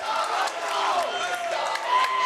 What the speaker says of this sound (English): take a look at this crowd here